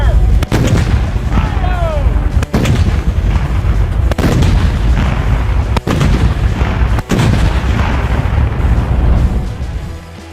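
A Sherman tank's main gun fires round after round, five heavy booms at intervals of roughly one to two seconds over a loud, continuous rumbling background.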